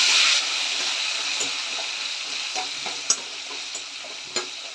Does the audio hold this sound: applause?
no